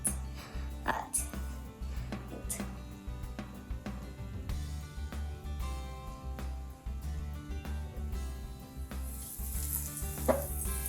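Catfish fillets fry in hot oil, a steady sizzle running under a voice and background music.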